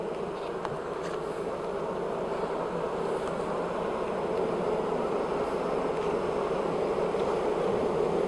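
Honey bees swarm around an opened beehive during an inspection, a dense steady buzzing hum that stays loud and close throughout with no talking.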